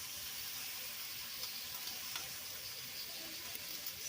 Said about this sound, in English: we're going to take our jar of gravy and we're going to pour it in.